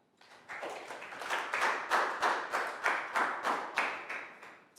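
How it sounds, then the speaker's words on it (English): A class of young pupils claps together in a steady, even rhythm, about a dozen distinct claps after a short pause, close and moderately loud in a classroom, with no talking. "Big round of applause for Prou."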